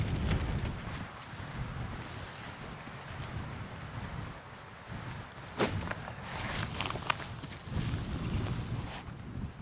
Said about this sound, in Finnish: Tuo on kyllä ikävä tuo tuuli tuon kalastamisen suhteen.